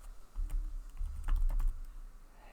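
Quick bursts of keystrokes on a computer keyboard while typing into Chrome's JavaScript console, close and distinct clicks over a low background hum, with no talking.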